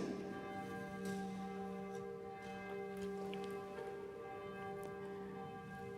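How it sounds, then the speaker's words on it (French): Church bells ring steadily at a distance, their sustained overlapping tones and strikes filling the background at a moderate, even level with no talking over them. "Au moment où on entend les cloches sonner de l'église ici"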